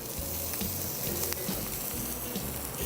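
Scallops sear in butter in a pan, a dense continuous sizzle heard up close with soft rhythmic handling thumps underneath and no voices.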